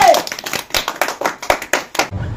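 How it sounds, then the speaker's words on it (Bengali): A small group of people claps hands together at a home challenge game, about a dozen uneven bursts of clapping in quick succession, close and fairly loud, ending abruptly. "সবাই একটা হাততালি করে"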